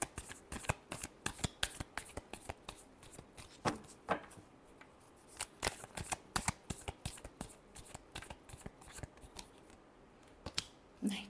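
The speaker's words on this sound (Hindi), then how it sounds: "last shuffle" Tarot cards shuffled by hand in a rapid, continuous run of crisp riffling and flicking bursts, close and fairly quiet, with no talking.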